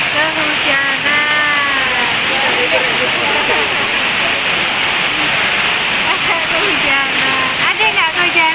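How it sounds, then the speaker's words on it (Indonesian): Heavy rain pours loudly in a steady, dense hiss that fills the whole scene, with voices talking over it throughout. "sini lagi hujan deras, bisa dilihat di belakang"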